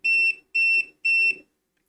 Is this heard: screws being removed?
no